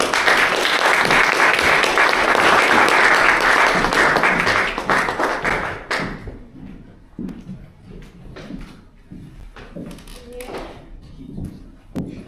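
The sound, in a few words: audience applause for the president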